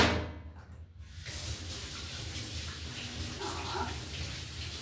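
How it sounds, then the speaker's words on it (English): Tap water runs steadily as hands are washed at a sink, a close, continuous hiss after a brief quieter start, with no talking. "Let me wash my hands."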